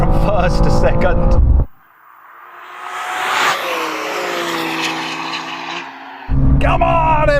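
A BMW M2 CS spins its wheels at launch, engine screaming up through first gear and shifting into second, a loud close run that starts after talk drops out and ends as voices return.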